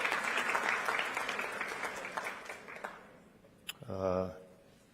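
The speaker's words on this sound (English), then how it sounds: "if we could just give another round of applause for Duwain and the panel" Conference audience at a summit plenary gives the panel a round of applause that fades out over about three seconds, then a voice speaks briefly.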